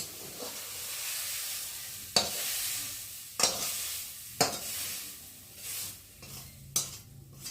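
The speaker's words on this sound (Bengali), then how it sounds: "দেখো সবিনটা ভাজা ভাজা হয়ে গেছে এখন আমি কড়া থেকে নামিয়ে নেব" Small chopped soybean chunks frying in a wok with a steady low sizzle, broken by four or five sharp scrapes of a spatula stirring against the metal at irregular intervals.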